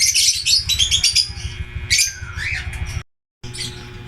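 Pet birds in a breeding cage, a blue opaline hen and a green opaline, chirp and tweet in quick close bursts over a low steady background hum.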